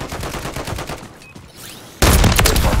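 Gunfire in Call of Duty Modern Warfare 3 multiplayer: rapid bursts of shots through the first half, a short lull, then a loud sustained barrage of automatic fire.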